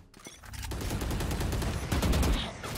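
Rapid volleys of gunfire punched through a wall in a tactical shooter round on Rainbow Six Siege-style maps, dense and loud bursts overlapping continuously, with a heavier cluster near the end.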